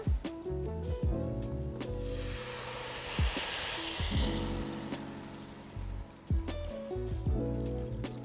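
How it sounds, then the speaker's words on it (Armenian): Boiled water pours steadily into a hot pan of vermicelli and turmeric, hissing and bubbling loudly with intermittent clanks of utensils throughout. "հենց հիմա այս պահին մենք կավելացնենք եռացրած ջուրը"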